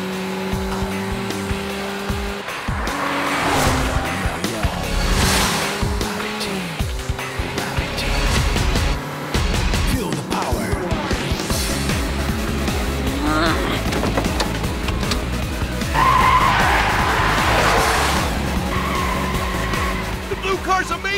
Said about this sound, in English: That braking drift on the turn was awesome!